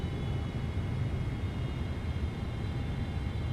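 Steady engine roar of an airplane on approach in a flight simulator, a constant broadband drone with a faint tonal hum, even in loudness and with no voices.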